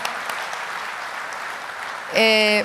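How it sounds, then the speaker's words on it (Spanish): Diners applaud at an honorary dinner for Bolivian President Evo Morales: a moderate, even patter of clapping that stops abruptly, replaced by a loud tonal voice-like sound. "Para él un gran aplauso"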